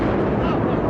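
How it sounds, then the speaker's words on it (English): A loud, close blast recorded near the Twin Towers, coming from the direction of Building 7, heard as a dense, continuous roaring rumble that fills the whole second. "it's another explosion."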